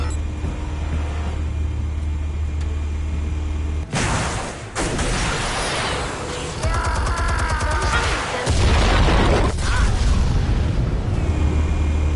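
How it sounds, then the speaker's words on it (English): Explosion in Batman: The Telltale Series, a big rumbling blast with low roar and debris, then a second heavy boom, all over a constant droning background. "Explosives armed. Fire when ready."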